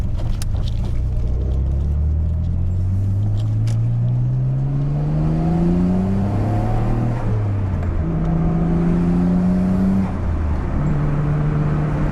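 A Nissan Skyline R32 GTR accelerates hard onto a main road, its engine rising in pitch through several gear changes, close and loud, with no talk.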